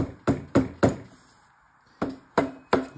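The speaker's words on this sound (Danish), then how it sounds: "Og så skal man tage en hammer og banke lidt på det her." A hammer knocks on an old engine part in sharp, close, solid strikes: three quick blows, a pause, then three more. No voices.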